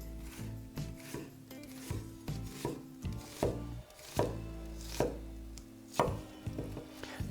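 Onion chopped with a knife on a board, a steady run of crisp close taps in a quick uneven rhythm, over a low hum of background music.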